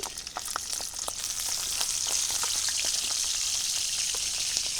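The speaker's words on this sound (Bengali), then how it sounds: "কড়াইতে তেল দিয়ে দিলাম একদম গুঁড়ো গুঁড়ো চিংড়ি মাছ চিংড়ি মাছগুলো ভাজবে নেই আগে" Tiny chopped shrimp fry in hot oil in a wok, giving a steady, close sizzle with scattered sharp crackles and pops throughout.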